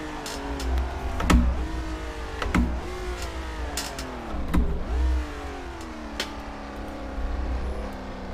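Ferrari 330 P4 racing engine in Assetto Corsa, holding a loud steady drone at high speed down a long straightaway, pitch rising and dropping sharply several times as gears shift.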